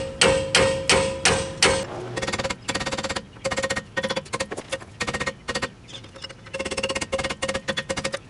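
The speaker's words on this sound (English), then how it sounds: "Probably gonna have to use a pickle fork in there." A hammer strikes a pickle fork driven into a rusty, seized front ball joint on a Jeep TJ, producing a close, loud series of metallic blows that comes in quick bursts with short pauses between them.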